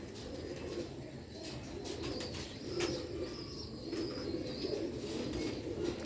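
Sialkoti and Ferozpuri pigeons coo softly in low, rolling, repeated calls, close by, with faint chirps and rustling in the background; no talking.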